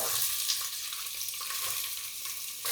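Sliced onions with cinnamon, cardamom and cloves sautéing in hot ghee for a beef biryani, a close, bright, steady sizzle with faint stirring, no talking.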